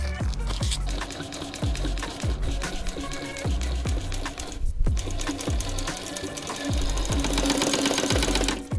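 Close and loud, a sewing machine stitches motorcycle seat upholstery in orange ostrich-print material, a fast continuous mechanical chatter with rhythmic thumps that pauses briefly near the middle before running on steadily, with no voices.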